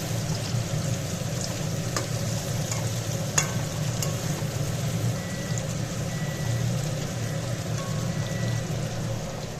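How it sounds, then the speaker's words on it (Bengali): Pointed gourd frying in a pan gives a steady, even sizzle throughout, with a faint clink or two of a utensil and no voices. "পটলগুলি ভাজা ভাজা হয়ে গেল তারপর নিরামিষ করব"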